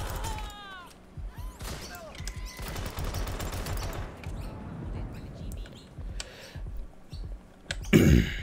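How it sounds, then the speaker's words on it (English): Gunfire in the video game Watch Dogs Legion: scattered sharp shots and short bursts crack at irregular intervals over a busy background, ending in a loud, close blast. "No, shoot the gun"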